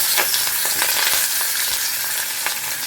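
Fish fries in hot oil with a loud, steady hiss and dense crackling spatter, close and continuous, with no voices.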